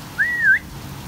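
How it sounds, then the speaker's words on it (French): A parrot gives a single short rising-and-falling whistle, clear and fairly close, in an otherwise quiet moment. "je communique avec Rio, le perroquet. Vous entendez? Il me répond"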